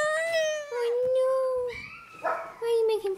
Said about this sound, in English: Is it because the doggies are being noisy?